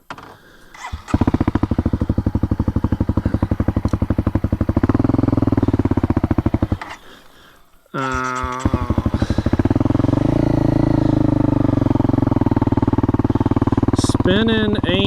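A Honda CRF250L dirt bike idles steadily and loudly close by, then dips briefly before revving up and pulling away with rising engine pitch, running strong to the end.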